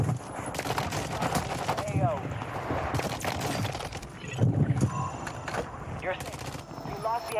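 Rapid bursts of Vondel AR gunfire in a first-person shooter, loud and repeated across the whole stretch, with game effects and a voice talking throughout.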